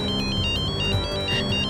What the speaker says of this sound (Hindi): मॉम एक मिनट, फोन आ रहा